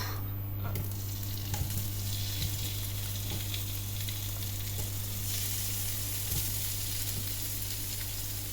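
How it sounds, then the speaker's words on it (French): Tofu dropped into very hot oil sizzles steadily and loudly from start to finish, with a brief burst of extra spatter at the outset and a low electrical hum beneath, while a stir-fried pad thai-style noodle dish gets under way. "dans l'huile très chaude, je vais commencer par mettre le tofu"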